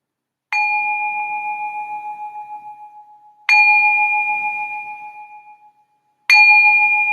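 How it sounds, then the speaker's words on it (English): A meditation bell rung three times to open a session, each strike a clear, bright tone that rings out and slowly decays before the next, spaced about three seconds apart in otherwise silent surroundings. "I'm going to ring this bell to signal the start of this meditation session."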